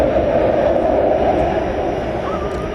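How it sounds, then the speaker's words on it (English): An American Airlines Airbus A321 departs DFW Airport at night for San Francisco, its engines giving a steady, broad roar from some distance that holds throughout at a fairly loud level, with a voice faintly under it. "we've got a plane going out to San Francisco after just seeing one come in."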